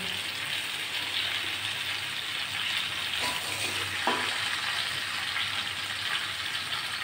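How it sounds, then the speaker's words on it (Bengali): Potato and pointed gourd pieces frying in a pan with ground ginger, cumin and green chili paste, a steady, moderate sizzle with a couple of brief scraping stirs and no talk. "মশলাটা দিয়ে আমি ভালো করে আলু পটলটা কষিয়ে নেব।"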